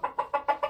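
A rooster clucks five times in quick, even succession, close and clear, with no talking over it.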